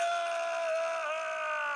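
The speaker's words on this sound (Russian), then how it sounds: "А чё, кто там так заорал истошно?" A prolonged, strained scream in the Far Cry first-person shooter, one sustained tonal cry with shifting harmonics, loud and steady for the whole stretch with no other sound over it.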